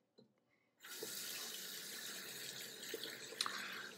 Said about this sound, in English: Let's rinse out that brush.